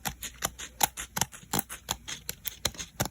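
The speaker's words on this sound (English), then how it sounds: "So use your scissors, be careful here." Scissors snip through the top paper layer of a foldable 3D paper 747 model, a brisk run of about a dozen crisp, close cuts in an uneven rhythm with no talking.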